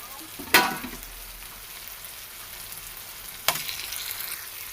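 Egg tomato curry stirred in a pan over a low flame, with a soft, steady simmering sizzle and two sharp scrapes of a spoon against the pan near the start and again about three seconds later.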